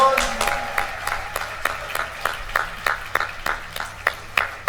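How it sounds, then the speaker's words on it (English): A small group claps for a student in a classroom, a steady run of a dozen or so sharp hand claps at an even pace, close and fairly loud with no talk over it. "Give her a big round of applause."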